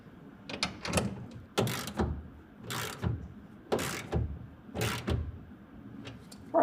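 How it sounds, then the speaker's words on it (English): A ratchet tightening a clamp bolt on a BAKFlip MX4 tonneau cover rail on a 2024 GMC Sierra 1500, several bursts of close clicking strokes separated by short pauses. "tighten it down again to 10 foot-pounds with a 1/2 inch wrench or ratchet"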